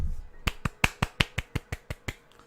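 A run of about ten crisp, evenly spaced hand claps, sharp and fairly close, with no talking.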